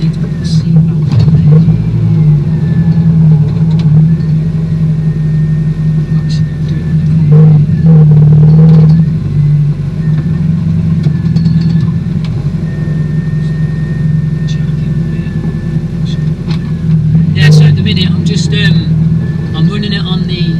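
A 1992 Honda Civic engine, a chipped standard P28, idles with a low steady rumble, briefly revving a couple of times, close up, while a person talks over it.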